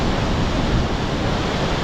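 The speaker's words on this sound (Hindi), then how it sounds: "पानी इतना तेज़ी से नीचे गिर रहा है। पीछे बैकग्राउंड में भी देख सकते हैं, अभी 3 गेट से पानी निकल रहा है" Flood water roaring out of three open gates at Derjang Dam in Angul, Odisha: a loud, dense, unbroken rush of falling water filling the whole short stretch.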